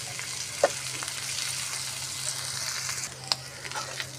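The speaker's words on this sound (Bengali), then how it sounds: "আদা রসুনটা ভেজে নিচ্ছি।" Grated ginger and chopped garlic frying in a pan, a steady moderate sizzle with a few sharp spatter clicks and light stirring.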